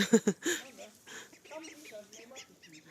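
A few quick, high peeping calls from ducklings up close at the start, then soft chatter from people and faint chirps underneath, in a village.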